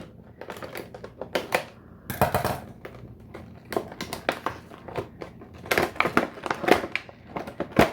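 Plastic blister packaging of a Tiger Wrench 48-in-1 socket wrench being cut open, with a rapid series of sharp snips, crinkles and crackles close up, irregular and continuous, no speech.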